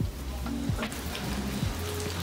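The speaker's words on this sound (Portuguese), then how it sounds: "Mas enfim, tá chovendo, olha só." Steady rain falls outside at night, a dense, even hiss of drops continuing without a break and with no talk over it.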